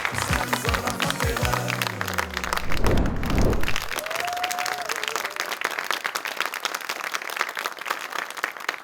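Audience applause and cheering at the close of a live comedy concert, a dense wash of clapping from a large crowd that swells briefly then carries on steadily, with a few voices and thuds mixed in.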